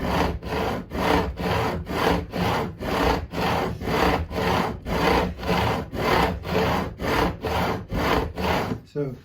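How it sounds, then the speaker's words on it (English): Steady back-and-forth abrasive sanding on the metal frets of a Yamaha Attitude bass guitar, about twenty even strokes in a regular rhythm, close and fairly loud with no voices. "better to do lots of repetitive sanding and get these down to the right size"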